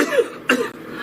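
A single person coughing twice in quick succession, close and fairly loud, with a brief throaty rasp in each burst and no talk around it.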